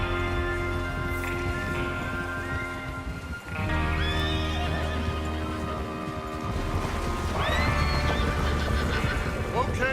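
Horses neigh and hooves clip-clop steadily in the video game Red Dead Redemption 2, with music and a rumbling background, as riders move along together.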